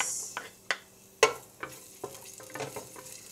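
Garlic and onion sauté in a hot pan with a soft, steady sizzle, broken by several sharp clinks and scrapes of a utensil stirring, close and fairly quiet.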